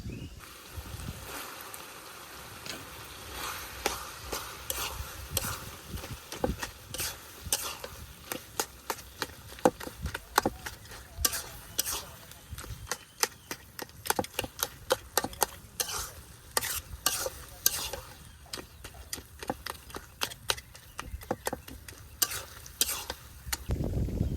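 Taro greens fry in a pan with fish head, sizzling continuously while a utensil stirs and scrapes in frequent, irregular clatters close by.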